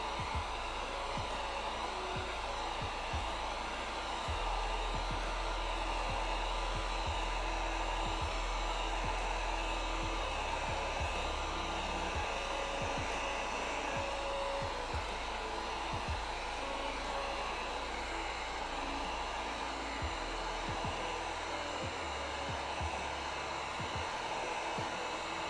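A heat gun blows a steady, unbroken hiss while heat-treating a cosplay armor piece for a Wing Gundam Zero build; the airflow runs loud and constant throughout, with faint low rumbling underneath and no speech.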